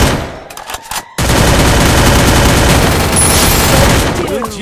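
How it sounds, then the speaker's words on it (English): Shotgun fire in the mobile battle-royale game Free Fire, a dense, loud burst of gunfire that sustains for several seconds after a brief choppy lead-in, with game effects layered over it. "Hit him with the shotgun."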